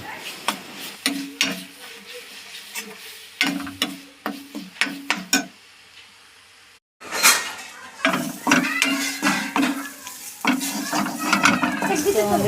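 A utensil stirs and scrapes dried fish bhorta around a pan, clinking against the metal in repeated bursts with a short pause midway, then continuous rapid scraping and knocking at close range, no voices.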